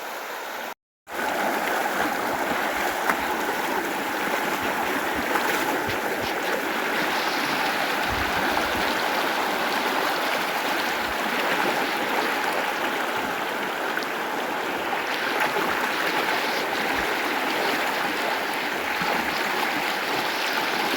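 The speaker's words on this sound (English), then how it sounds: "Water's moving pretty good." Fast-moving, knee-deep water of Bradley Creek rushes past at a trail crossing, a constant broadband roar close at hand that stays steady throughout, with no talk over it.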